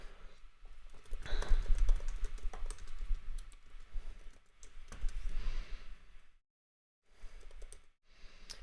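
Code is typed on a computer keyboard in rapid, steady runs of close key clicks, with a brief pause near the end and no talk.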